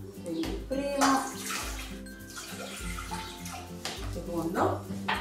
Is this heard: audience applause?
no